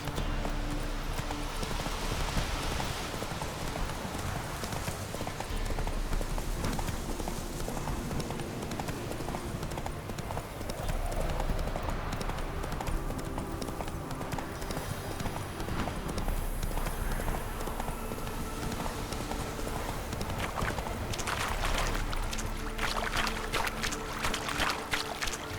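In The Witcher 3, a horse gallops with a steady, rapid clip-clop of hooves over game ambience and a light watery wash, continuous and at moderate volume.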